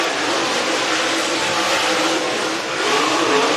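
Dirt track race car at Sugar Creek Raceway on a hot lap, its engine a loud continuous roar that holds steady and swells slightly toward the end.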